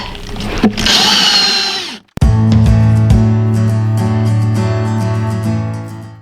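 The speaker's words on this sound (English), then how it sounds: "I'm just going to drill a pilot hole" A power drill spins up and bores a pilot hole in a wall cabinet, a loud close whine with a brief stop, then a steady high-pitched drone.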